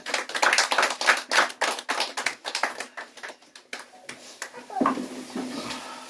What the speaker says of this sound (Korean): 뜨거운 박수로 열렬히 응원해 주시면